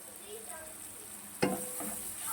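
Tomatoes fry in a pan with a low, steady sizzle, broken by a sharp hiss and clatter as coriander is added, close by.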